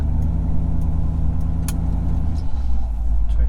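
A car engine on a Gen V fuel system test drones steadily, close and moderately loud, its low rumble shifting slightly toward the end as the car is eased onto the throttle.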